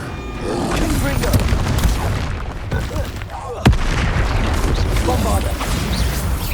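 Confringo spell blasts from the Hogwarts Legacy video game go off in a barrage of heavy booms and crackling bursts, with one sharp, loud hit midway, while a voice shouts spell incantations.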